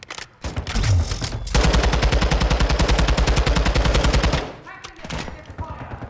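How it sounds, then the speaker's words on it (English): Loud, steady automatic gunfire in a multiplayer shooter game, one long sustained burst of rapid evenly spaced shots, preceded and followed by scattered lighter shots. "I'm getting shot from behind"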